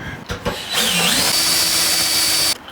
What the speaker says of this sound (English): Drill this thing out.